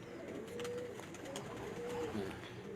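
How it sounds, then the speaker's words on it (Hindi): Lal Pari pigeons coo softly in a few low, rolling calls, faint and close, with quiet background noise. "लाजवाब लाल परी कबूतर हैं जी"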